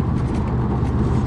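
Subaru WRX STI stage 2 tuned to about 300 awhp, engine accelerating as a steady, loud, dense low rumble that holds without breaks throughout.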